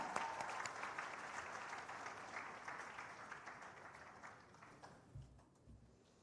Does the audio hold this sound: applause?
yes